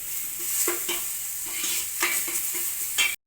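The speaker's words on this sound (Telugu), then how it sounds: "క్యారెట్ పచ్చి వాసన పోయే వరకు వేపేసుకున్నాం" Carrots fry in a pan under a constant close sizzle, broken by several scraping stir strokes at an uneven pace, before the sound cuts off abruptly at the end.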